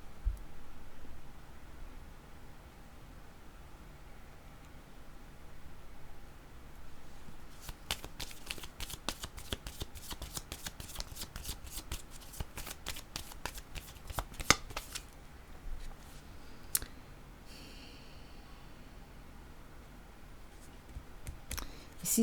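Tarot cards being shuffled during a reading, a long run of rapid, crisp riffling flicks in the middle of the clip, close and fairly quiet, with a few scattered taps before and after.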